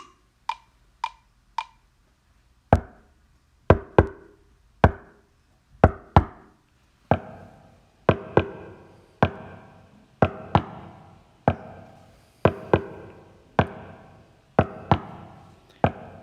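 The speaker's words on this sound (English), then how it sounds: "This time I'm going to put a knocking sound on there." Household knocking recorded for a GarageBand song: three light taps, then a series of sharp, close knocks in an uneven rhythm, each with a short ringing decay, in a quiet room.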